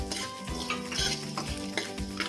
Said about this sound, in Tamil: மல்லியும் வத்தலும் நல்லா வறுத்து இப்போ இதில் வந்து தேங்காய் சேர்த்துக்கிறேன்